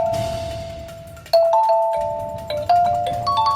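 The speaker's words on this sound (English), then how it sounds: "Kalimba." Notes of a tune are plucked on a kalimba, ringing bell-like tones that decay slowly, with each new pluck striking clearly and close over the last.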